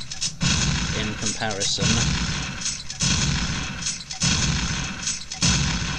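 Shotgun blasts in a Doom 3 mod in Hell, a few loud booming reports spaced a second or so apart, with someone talking between and over them.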